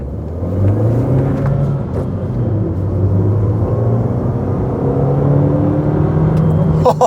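An Audi TT with a misfire runs steadily at idle, a low continuous engine rumble close to the listener with slight revving, and no voices over it.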